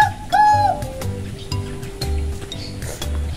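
Birds coo in low, repeated phrases close by in a large aviary, mixed with a few sharp chirps and calls from other birds.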